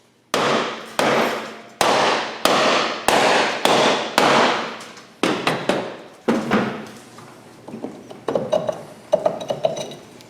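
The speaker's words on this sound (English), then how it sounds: "we'll take a composition hammer, tap the brake drum a few times and get it jarred loose." Composition hammer striking the brake drum of a Honda TRX300 ATV in a workshop, about a dozen sharp ringing metallic taps at a steady rhythm, then lighter faster taps and clinks.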